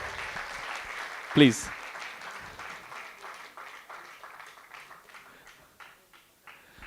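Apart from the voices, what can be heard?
audience applause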